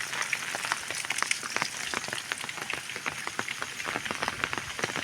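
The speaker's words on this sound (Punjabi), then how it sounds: "ਮੀਂਹ ਫੁੱਲ ਤੇਜ਼ ਪੈ ਰਿਹਾ ਬਹੁਤ ਜ਼ਿਆਦਾ" Heavy rain falls in Punjab farmland, with water running off into the fields: a busy, fairly quiet hiss dotted with many sharp drip and splash ticks.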